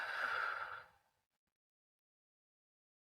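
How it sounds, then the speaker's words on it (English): One deep, slow exhale during a guided breathing exercise, a soft breathy rush lasting about a second that fades into near silence. "take a big, deep inhale in. And an exhale out."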